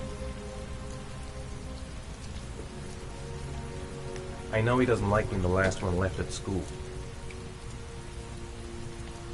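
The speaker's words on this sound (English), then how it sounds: "Heavy rain. It's been the same for weeks." Steady heavy rain in the game Heavy Rain patters and hisses continuously across the whole stretch, while someone speaks briefly over the downpour in the middle.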